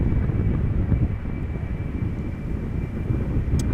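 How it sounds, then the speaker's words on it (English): A BA CityFlyer Embraer 190 jet departs Amsterdam Schiphol, a broad, steady roar of engine noise with wind buffeting, heard at a distance and continuous without talk. "we are going to see an Embraer 190 BA City Flyer outbound to London City"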